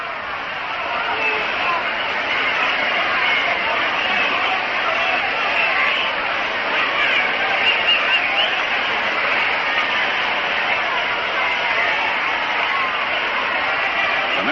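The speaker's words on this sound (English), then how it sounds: "Roberto Clemente gets an ovation from the crowd as he comes up here" A baseball crowd gives Roberto Clemente an ovation as he comes to bat in a 1962 New York Mets versus Pittsburgh Pirates game, a steady, broad roar of applause and cheering that holds at a constant level throughout.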